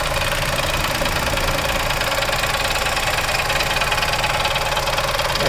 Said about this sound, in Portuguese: Faz um barulho mesmo quando pisa no freio